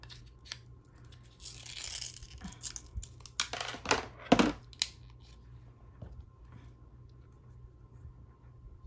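Scissors cut the top off a small plastic pill container, giving a few close, brief crunching snips and crackles in a quiet room.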